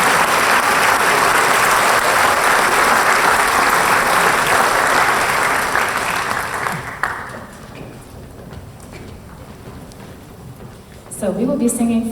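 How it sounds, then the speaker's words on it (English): Audience applause at a school fall concert, loud dense clapping that fades out after about seven seconds, leaving quiet room noise before a burst of activity at the end. "So I would just love to applaud them, especially our new people, because they've really risen to the challenge."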